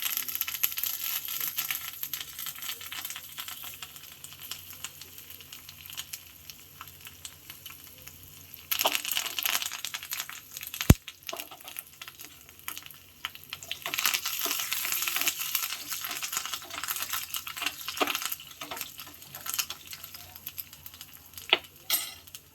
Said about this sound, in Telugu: ఇది నేత కొమ్మలు కాబట్టి కరివేపాకు అట్లే వేస్తున్నావు కొమ్మలతోటి.